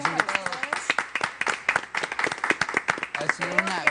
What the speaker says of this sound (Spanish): aplauso para nuestros invitados.